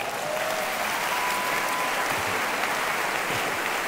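A church congregation applauding steadily, dense continuous clapping filling the room at an even level throughout, with faint voices mixed in.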